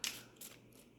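A deck of tarot cards shuffled close by, two quick soft papery swishes followed by a faint rustle in a quiet room.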